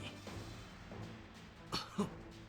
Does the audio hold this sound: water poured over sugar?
no